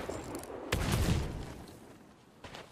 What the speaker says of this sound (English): Is that the cannon?